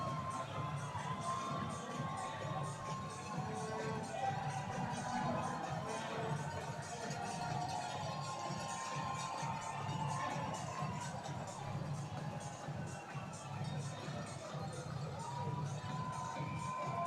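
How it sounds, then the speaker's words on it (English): Hockey crowd inside McMorran arena cheering and shouting in a steady, dense roar, heard from within the stands as a constant wash with no single voice standing out. "And that wakes the crowd here inside McMorran up."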